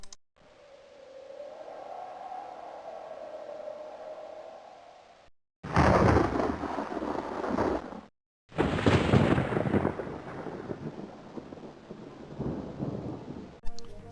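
Opening intro of the game Daggerfall Unity: a low wind drone gives way to heavy thunder cracks and rumbling storm noise with rain, arriving in loud bursts split by short silences.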